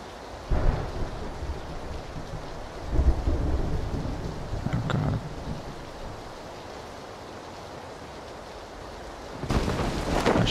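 Thunder rolls and rain falls in a PUBG or H1Z1 match, with deep rumbling booms over a steady hiss of rain and a sharp loud crack near the end.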